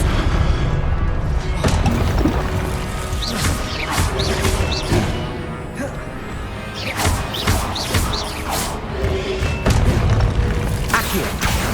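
Confringo fire spells in the video game Hogwarts Legacy set off a loud, continuous barrage of booming explosions and crashing impacts with whooshing bursts layered throughout.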